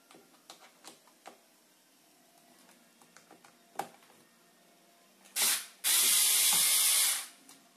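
A NOUVCOO electric screwdriver backs out a screw: scattered small clicks and taps come first, then a short motor whir and a sustained, loud, close buzzing run lasting a couple of seconds, with no talk.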